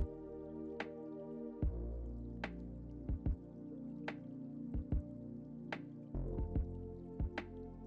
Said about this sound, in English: she starts by pouring clear resin into her mold